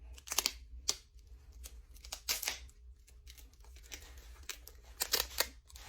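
Cheap adhesive tape is pulled tight and wrapped around a hockey stick, giving repeated sharp crackling rips and tearing bursts separated by short quiet gaps, close and fairly loud.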